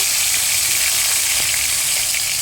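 Ginger garlic paste frying in hot oil with dried red chilies, bay leaves, star anise and cardamom, a dense steady sizzle close up that fills the whole stretch, with no talking.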